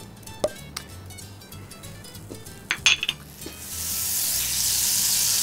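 Butter goes into a pan for a Japanese navy-style curry roux: a few sharp utensil clinks and taps, then a bright sizzle swells up and holds steady to the end.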